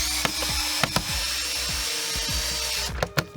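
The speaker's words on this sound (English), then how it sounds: "I'm just going around here and removing the screws from the outer shell cover" Phillips screwdriver backing screws out of an electric unicycle's outer shell cover, giving repeated short scraping twists and small clicks at close range, with a steady background hum and no talking.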